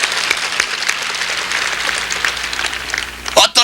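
A church congregation at a Sunday worship service claps and applauds, producing a steady, dense wash of clapping that fills the whole stretch, with a couple of louder thumps near the end.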